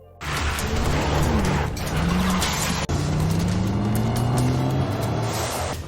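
Roaring car engines with rising and falling pitch and squealing tires, loud and continuous like a fast pursuit, with one brief dropout.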